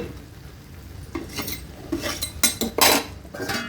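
A lid is set over a pan of egg butter tadka: a few close metallic clinks and a short scrape over a low background hiss, with the loudest clatter near the end.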